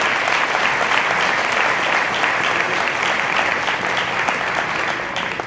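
An audience at a CWA Local 1040 union keynote address claps together in a full, even burst of applause that holds steady for over five seconds before easing off at the end, with no voices above it.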